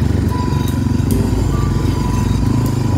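A four-wheel-drive ATV engine drones steadily while riding, a loud, continuous low rumble with faint rattling clatter throughout, close and without talk.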